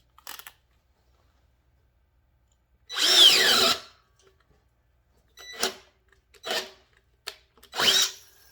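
A Ridgid power drill boring a 1 inch hole: one loud whirring burst of about a second, then several shorter spurts of the motor, close by, with silence between.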